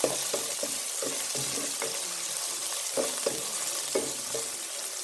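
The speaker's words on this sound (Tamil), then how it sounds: "இதோட இப்போ நம்ம வெட்டி வச்சுருந்த வெங்காயத்தை சேர்த்து கொள்ளுவோம். எல்லாத்தையுமே சேர்த்தாச்சு. இதை நல்லா வதக்கி கொள்ளுவோம்." Chopped onion sautés in a pan for a pipe fish dish, a bright frying sizzle broken by repeated scraping strokes of a spoon stirring at a quick, irregular rhythm, close and clear, no voices.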